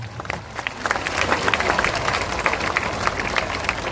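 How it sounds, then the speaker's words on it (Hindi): A crowd at a political rally in Bihar claps in a loose, uneven round, individual hand claps standing out over a rumbling, fairly distant background. "ताली बजा दीजिए"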